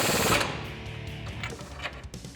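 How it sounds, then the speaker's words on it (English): A ratchet with an 18mm socket and swivel tightens a suspension bolt on a 2004-2021 Ford F150 during a strut spacer leveling kit install. It makes a continuous mechanical whirring and clicking, loudest at the start, with no talking. "now we have our 18mm socket with a swivel"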